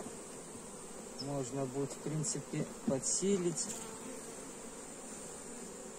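Honey bees buzz steadily around a hive frame holding brood, larvae and honey, a constant close drone under a man's speech.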